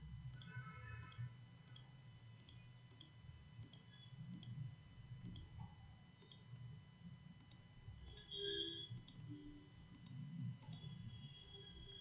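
A computer mouse clicking during work in CAD software, a regular series of small sharp clicks about once every half second, faint and close over a low background hum.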